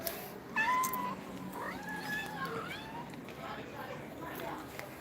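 A cat meows a few times nearby, short rising and falling cries, with someone speaking softly alongside.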